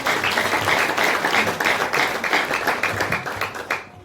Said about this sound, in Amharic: አጨብጭቡ ለጌታቸው።